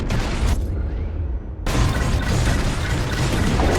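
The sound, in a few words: bombs exploding, Star Wars: Squadrons video game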